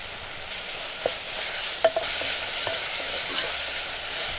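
Raw mango pieces stirred in a frying pan for a tomato-onion mango curry: a steady soft sizzle with a few light spoon clicks and scrapes against the pan, close and alone.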